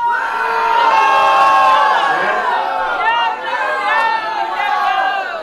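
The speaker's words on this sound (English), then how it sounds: "All of you deserve a great round of applause here." A crowd at Curtis Sliwa's concession to Eric Adams cheers and shouts, loud overlapping voices and whoops rising and falling close by, with no distinct clapping.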